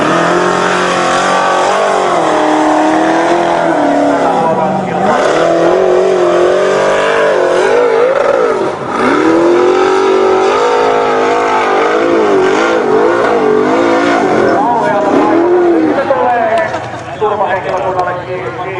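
A Formula Offroad car at the start of a hillclimb run, the engine loud and close, revving and rising and falling in pitch throughout, while a commentator talks over it.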